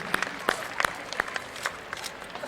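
Scattered, sparse applause from an audience at a school talk, a handful of distinct claps spread across a couple of seconds at moderate distance, with no voices over them.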